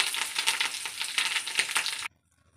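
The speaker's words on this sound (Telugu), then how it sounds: "ఇప్పుడు ఈ పోపు పెట్టి పప్పులో వేసేద్దాం" A tempering of onions and curry leaves sizzles loudly in hot oil as it is poured into dal, a bright continuous crackle that cuts off abruptly into silence.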